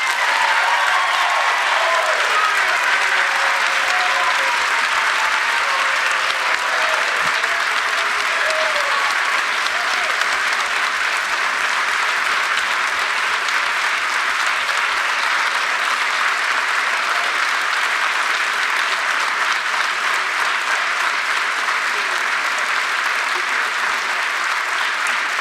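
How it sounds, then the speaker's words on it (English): Audience at a health care town hall meeting applauds in a long, dense, steady burst of clapping that holds at an even level from a large crowd, with no talk over it. "Well-deserved applause there."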